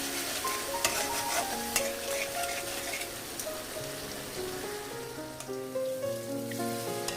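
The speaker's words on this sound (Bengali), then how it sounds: "আবার একটু জল দিয়ে কষিয়ে নেব।" Ivy gourd (kundru) with turmeric, salt and a little sugar sizzles steadily in a pan with added water while a spoon stirs and scrapes, producing constant close frying crackle with occasional clinks.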